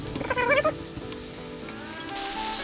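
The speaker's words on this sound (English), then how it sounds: "Then we add the Schneider's sausage." Schneider's sausage hits a hot pan alongside eggs and grape tomatoes, a brief sharp squeal-like hiss at the start settling into a steady close sizzle.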